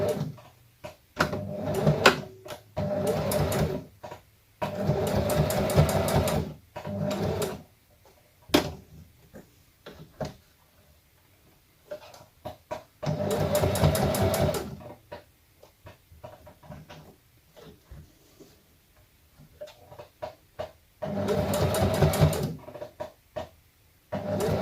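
A sewing machine runs in repeated bursts of rapid mechanical stitching, several seconds each, separated by quiet pauses and light handling noises, stitching a shabby-style sewn project.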